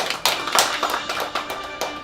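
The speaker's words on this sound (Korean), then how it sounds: "큰 박수 부탁드립니다" Applause for a plastic surgeon guest introduced on a Korean television program: a scattering of sharp handclaps in uneven bursts, close and moderately loud, with no talk.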